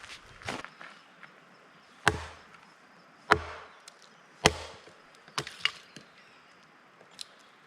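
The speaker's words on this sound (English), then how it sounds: "Got some firewood, made it easy for myself, so gonna chop that up a little bit" Firewood being chopped with a blade at a wild solo campsite: five or six sharp, close woody chops spaced a second or so apart, then a few lighter taps, alone in a quiet outdoor setting.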